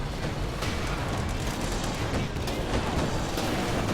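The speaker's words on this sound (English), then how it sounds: "Another walking Stuka barrage coming in." Walking Stuka rocket barrage in Company of Heroes 2, a dense, continuous roar of overlapping rocket impacts and blasts rumbling steadily through the whole stretch, loud and close with no talk over it.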